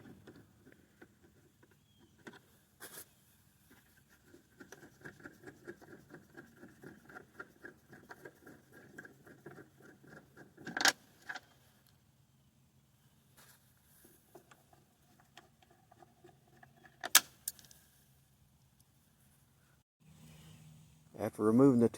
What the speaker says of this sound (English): So we'll start by removing the two screws, one at the top, one at the bottom.